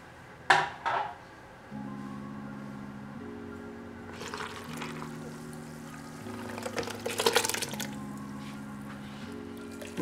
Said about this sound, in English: We're going to transfer our must into a demijohn.